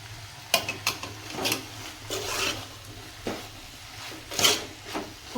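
Raw peanuts stirred and frying in a pan for a brinjal curry masala, with a soft sizzle under repeated scraping and stirring strokes close by.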